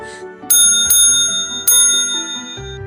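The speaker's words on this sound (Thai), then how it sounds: "เสียงกระดิ่งรถเข็นที่คุ้นเคยก็ดังมาจากหน้าบ้าน" A pushcart vendor's bell rings out in front of a house, with several bright, ringing strikes that linger between hits over a low background, close and loud.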